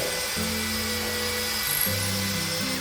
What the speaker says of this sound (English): now I'm going to drill it